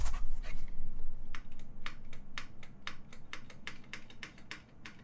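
Fast typing on an unlubed KBD8X mechanical keyboard with a rattly spacebar: a close, continuous stream of crisp clacks with occasional heavier, louder strikes and no talking.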